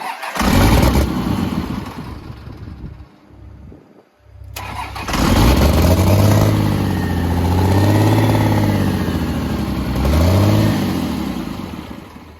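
A burnout truck with a freshly done head and head gaskets, long unused, cranks in loud bursts for several seconds, then catches and settles into a rough, rumbling idle with a couple of swelling revs.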